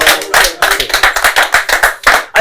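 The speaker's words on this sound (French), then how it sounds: "Allez, on applaudit." Audience applause at a live stage show, dense steady clapping of many hands lasting a couple of seconds before fading abruptly, loud and close with a hint of voices underneath.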